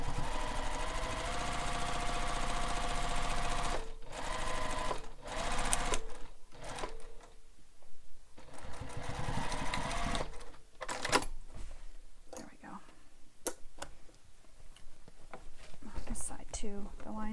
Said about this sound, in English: so I'm going to sew it from this side.